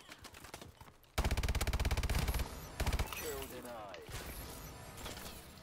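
KF5 gun firing in Call of Duty Advanced Warfare: a loud, rapid automatic burst of over a second, then a short second burst, followed by quieter game noise and someone talking.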